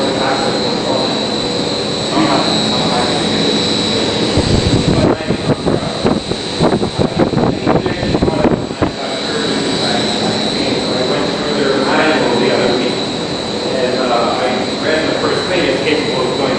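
A wind tunnel holding a fighter jet model runs at low speed with 30 mph wind inside, a steady, loud roar with a whining hum, swelling into a rougher rumble midway and then settling back.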